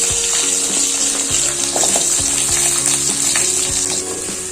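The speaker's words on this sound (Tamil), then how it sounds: "சின்ன வெங்காயம் போடுறோம் பாருங்க." Shallots hit hot oil with cinnamon, cloves, cardamom and chilies and sizzle loudly and continuously, while a utensil scrapes and clinks against the pan as they are stirred.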